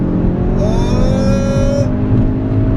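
Ford Focus RS accelerating hard on a drag run, a loud continuous engine roar with a rising whine through the gears, close and alone with no talk.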